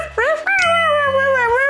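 A cartoon puppy at bath time gives a short string of high, wavering whines and yelps, close and clear, with a low steady tone underneath.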